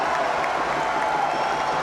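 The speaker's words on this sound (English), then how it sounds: "Trey King getting the crowd fired up." Crowd at a CEBL basketball game between the Calgary Surge and the Edmonton Stingers cheering and clapping, a dense, steady roar of applause filling the arena, loud and continuous.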